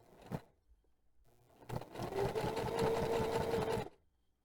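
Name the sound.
sewing machine stitching an ID card holder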